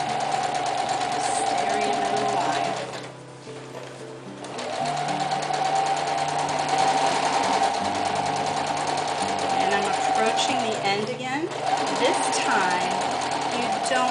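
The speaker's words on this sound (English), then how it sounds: "I'm watching the line in my sewing machine just to keep it as even as possible." A sewing machine runs in steady fast bursts while stitching a small cloth bag, pausing briefly then resuming, close and clear, with a person talking over it.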